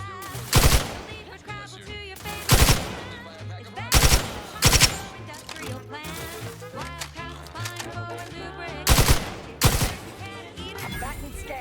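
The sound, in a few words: gunfire in The Outer Worlds 2 video game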